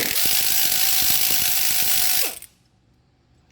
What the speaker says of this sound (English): I'm using air ratchet